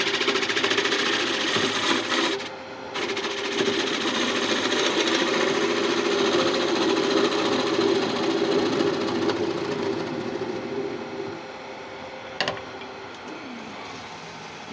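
A wood lathe re-cuts the inside of a tigerwood bowl with a steady, loud droning hum and a grating cutting texture, broken by a brief dip near the start and a sharp knock later.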